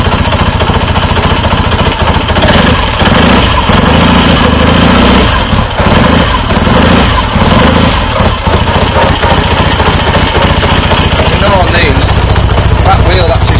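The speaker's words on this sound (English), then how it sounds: "That wheel actually spins round with the engine running." A 1961 BSA A10 Super Rocket motorcycle engine runs loud and close with a steady, throbbing idle throughout, and someone speaks over it at times.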